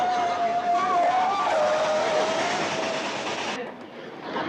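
A steam-era locomotive train running along a railroad at Dead Man's Curve in a 1960s black-and-white TV show, a steady rumbling roar with a wavering whistle-like tone, fading off near the end.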